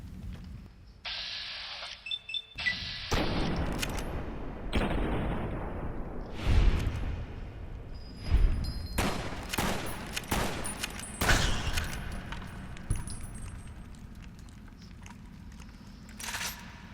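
Gunshots in the video game Fallout: New Vegas: a run of loud sharp reports and heavier booms, some in quick bursts, spread across the clip with echoing tails.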